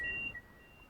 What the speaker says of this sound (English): Oh, you're going to beep at me.